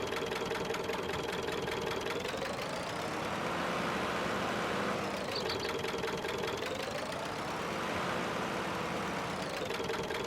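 A Zetor tractor engine runs in Farming Simulator 19, a steady, rough mid-range knocking drone that slowly rises and falls in pitch, continuous and close, with no voices.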